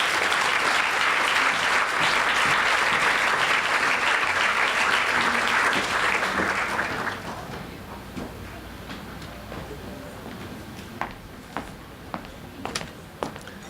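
An audience at a PechaKucha talk evening applauds after a speaker: full, loud clapping for about seven seconds, then fading to scattered claps, taps and light shuffling in the room.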